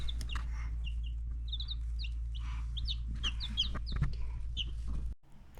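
Six newly bought baby chicks peep and cheep in quick high bursts over a steady low hum, the chirps scattered and close, ending abruptly.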